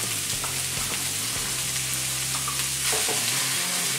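Boiled potatoes and tomatoes fry in a pan for butter pav bhaji, giving a loud, steady sizzle close up with occasional stirring scrapes and knocks throughout, and no talking.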